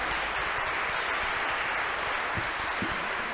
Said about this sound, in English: Let's give another round of applause for the tuba euphonium ensemble